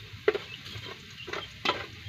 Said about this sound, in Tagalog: Nagisa muna tayo ng bawang, sibuyas at saka paminta.